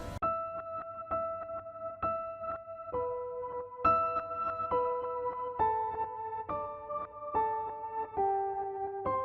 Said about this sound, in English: in that main theme, has a kind of backwards delay effect, which sounds like this.